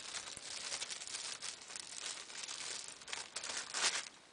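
Soft, close crinkling of a plastic bag being handled in a shop, with irregular rustles and a slightly louder crunch near the end, all fairly quiet.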